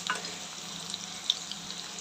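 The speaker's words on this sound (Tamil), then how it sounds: "வெங்காயம் நல்லா வதங்கிட்டோங்க." Onions sizzle steadily in a pan while being sautéed for a mutton and potato kulambu, a soft continuous frying hiss with one faint clink of a utensil partway through.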